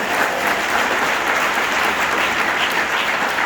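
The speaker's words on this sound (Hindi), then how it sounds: "एक बार भाई के लिए ताली बजाओ" An audience at a Vestige gathering claps together for a speaker, producing dense, sustained applause that stays loud and even for a few seconds with no talk over it.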